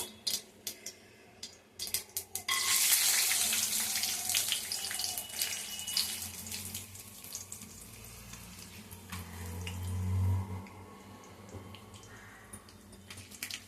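Cashews sizzle in hot oil with mustard seeds, a bright crackling hiss that swells after a soft start, steady and close with scattered pops and clinks of a utensil, no talking.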